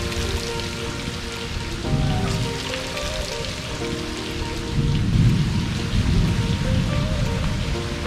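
Heavy rain pours steadily behind a house while thunder rolls and rumbles twice, loud and close, over the constant hiss of the downpour.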